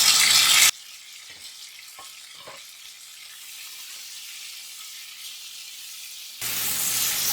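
Green, yellow and red capsicum with tomato and onion sizzle in a hot pan, loud bursts of frying at the start and end with a quieter, steady crackle between.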